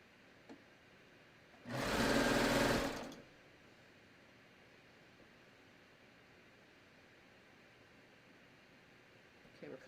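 Sewing machine stitching a raglan sleeve top runs in one steady, fairly loud burst of about a second and a half, with quiet room tone before and after.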